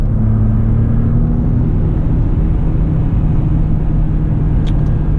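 A 2020 Ford F-150 STX pickup accelerating in sport mode, heard from inside as a steady, loud low engine drone and road rumble holding a gear, with no voices.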